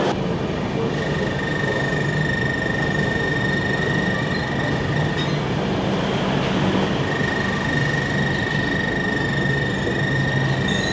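A passenger train running between Dhanbad and Gaya in Bihar gives a steady, continuous rumble of carriages with faint wheel clatter and a sustained high tone that drops out partway, close and unbroken throughout.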